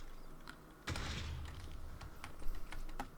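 Quick clatter of keys on a computer keyboard as a command is typed into Minecraft, with short irregular bursts of taps that are close and fairly soft.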